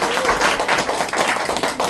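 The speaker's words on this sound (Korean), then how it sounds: "참 여러분 크게 박수 한번 더 쳐주시면" Sustained audience applause at a lecture on poetry and the independence movement, dense and steady for the whole stretch, loud and close with no voices.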